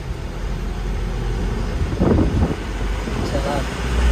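An Isuzu Elf truck's engine drones steadily inside the cab as the clutch is let out and it pulls away gently. Road and wind rumble sit underneath, and a voice speaks over the middle of the clip.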